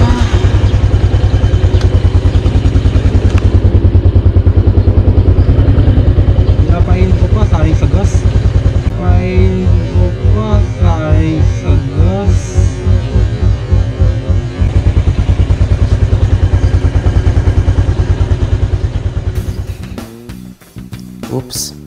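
A motorcycle engine idles steadily while warming up, a loud, continuous low thrum with a slightly uneven rhythm that holds for about twenty seconds, then cuts off near the end.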